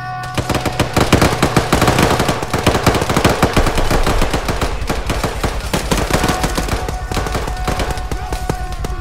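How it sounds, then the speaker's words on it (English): Rapid automatic gunfire in a military video game, loud dense bursts of rattling shots with sharp cracks repeating continuously, no pauses, close and overwhelming. "I'm hearing gunfire"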